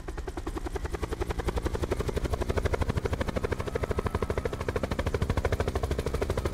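Helicopter in the Call of Duty Black Ops 4 Blackout mode, a loud, close, continuous rotor chop with rapid even pulses throughout.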